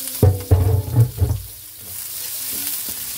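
Onion sautéing in a pan for a traditional Filipino dish, a few loud clanks of a utensil against the pan at first, then a softer continuous sizzle and hiss.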